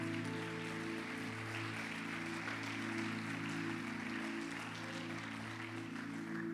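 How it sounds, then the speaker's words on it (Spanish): A church congregation claps together in steady, sustained applause, faint and distant, over held keyboard chords during a service. "Le das un aplauso a Dios en su casa."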